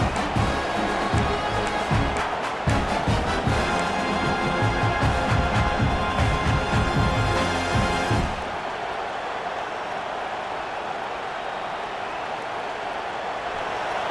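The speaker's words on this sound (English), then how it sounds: "The roar of the crowd trying to fuel this defense to keep them pinned in their own end." A dense, roaring stadium crowd in EA Sports College Football 26, loud and continuous for about eight seconds before dropping abruptly to a softer steady hum.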